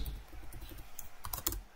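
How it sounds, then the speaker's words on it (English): Rapid, irregular typing on a computer keyboard during an online Lethal Company co-op session, with key clicks clustering into a denser burst near the end, close and fairly quiet. "I'm typing."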